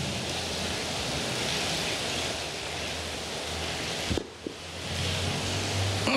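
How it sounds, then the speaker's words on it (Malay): Heavy rain pours steadily in Kuala Besut, a dense continuous hiss with a brief dip partway through, carried over a live telephone weather report. "Saya dengar hujan lebat."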